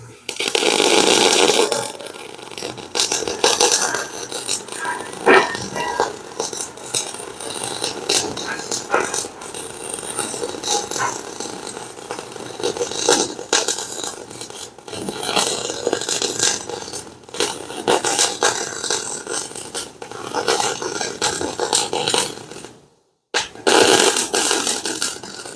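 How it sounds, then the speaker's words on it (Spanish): MIG welding on a reinforcement plate for a Hino 300 truck's rear axle housing gives off a steady, loud crackling buzz for about 22 seconds. It drops out briefly near the end before resuming. "Estamos aplicando soldadura MIG"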